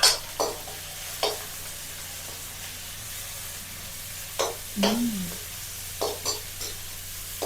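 Onion is stir-fried in a pan with garlic and chili, a soft steady sizzle broken by several brisk scraping stirs and a brief clatter, without any speech.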